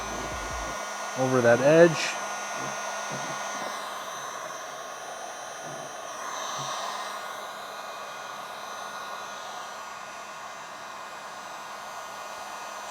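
A heat gun blows a steady, airy hiss while warming paint protection film on a car fender, running continuously at low level with a brief louder burst of handling noise near the start and a short spoken remark.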